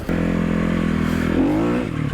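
A Sherco 300 off-road motorcycle engine drones steadily close by, its pitch climbing briefly as the throttle opens, then settling, with no talking.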